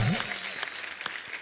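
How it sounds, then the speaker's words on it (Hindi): Studio audience applause on a Hindi comedy talk show, a brief burst of clapping that carries on under a host's voice. "इनके लिए भी जोरदार तालियां."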